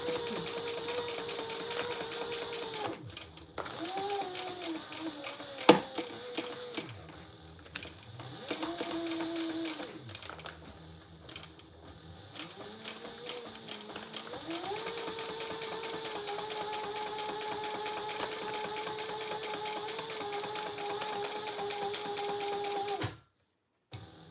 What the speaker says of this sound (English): You're hearing my narrow foot fall off the fabric.